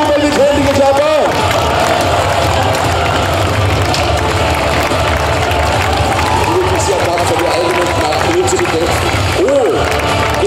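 Spectators at a knights' festival in Laxenburg cheer and clap for a knight, a loud, unbroken wash of crowd noise, shouts and applause with faint voices calling out in the mix.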